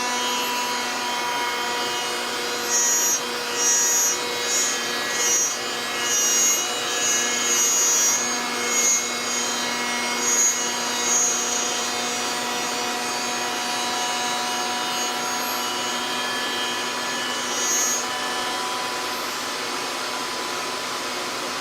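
Steady abrasive shaving of wood on a Shepoko 5 Pro, the tool cutting aggressively enough to burn the wood, with a constant hum and scattered brighter scraping bursts, close and continuous without speech.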